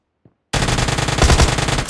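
Uzi submachine gun in a mobile battle royale game, a loud rapid burst of automatic fire lasting about a second and a half after a brief faint click.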